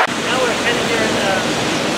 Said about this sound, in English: The gully is made of stones, gravel, and the water is already starting to flow in.